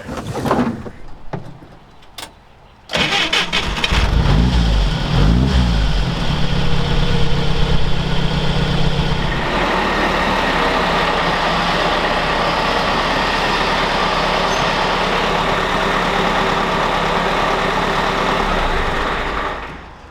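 An early UAZ with an engine prone to trouble cranks with several short bursts, catches, and settles into a loud, steady mid-pitched idle that runs on with a constant rumble close by.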